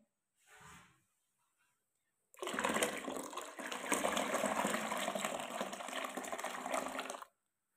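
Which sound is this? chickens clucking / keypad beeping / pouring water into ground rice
pouring water into ground rice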